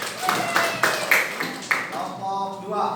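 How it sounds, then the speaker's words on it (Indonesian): Audience applause in a classroom session, a run of sharp claps spread over about two seconds that fade and give way to a quiet tonal background. "Ya, tepuk tangan."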